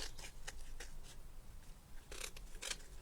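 Scissors snip paper in short, faint, crisp cuts at an uneven pace while trimming a piece for a coffee-shop diorama in a wooden house shelf.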